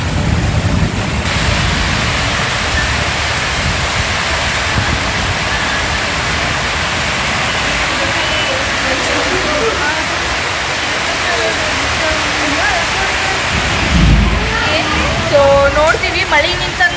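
Heavy rain pours in a constant, dense roar near Alnavar, swelling slightly near the end, with voices faintly under the downpour.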